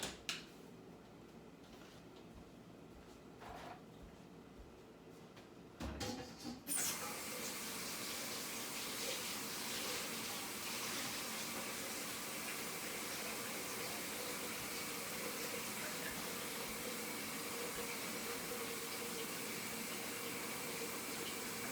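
Quiet room noise and a few soft clunks give way to a kitchen sink tap turned on, then water runs in a steady, even rush for the rest of the stretch, close by and unbroken by talk.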